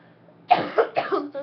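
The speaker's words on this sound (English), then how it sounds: "sorry for, like, coughing right at you guys." After a quiet moment, a person coughs several times in quick succession, close and fairly loud.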